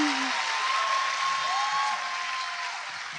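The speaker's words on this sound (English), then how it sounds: "There's too much clapping." A live audience at the Sony Centre in Toronto claps steadily and at length, a loud even wash of applause with a faint tone drifting over it.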